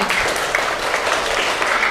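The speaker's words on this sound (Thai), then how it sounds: "อ้าวปรบมือให้เพื่อนหน่อย" Schoolchildren in a Thai school classroom applaud a classmate, with a steady, dense burst of many hands clapping together and no talking.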